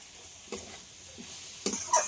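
Greens with a fish head frying in a pan, a faint background sizzle broken by a few sharp stirring scrapes, close and without talk.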